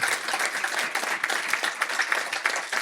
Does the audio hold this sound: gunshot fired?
no